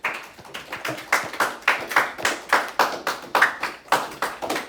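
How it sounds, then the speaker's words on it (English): Students in a math classroom clap together in a steady, rhythmic burst of about a dozen even claps, fairly close and moderately loud, with no talking over it. "Guys, clap it up for Salucci and David."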